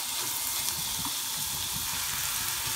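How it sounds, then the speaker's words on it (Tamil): Onions sauté in oil until brown for a poricha kuzhambu, a steady, even hiss of frying that holds at one level from start to finish, with no voices. "நல்லா வெங்காயம் நல்லா ப்ரௌனாக வரையும் வதங்கட்டும்"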